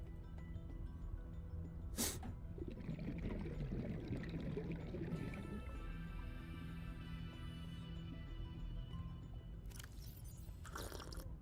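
A video game coffee vending machine pours a drink, a soft trickling stream under faint electronic tones and music, with brief bright clicks near the start and end.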